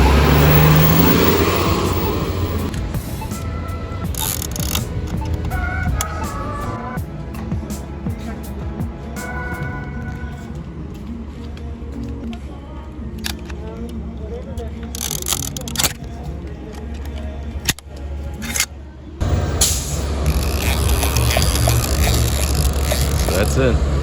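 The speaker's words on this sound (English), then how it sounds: "So I'm gonna wait for this bus to pass" A city bus rumbles through a street intersection with a steady low engine drone and passing traffic noise over about twenty-four seconds, and someone talks intermittently over it.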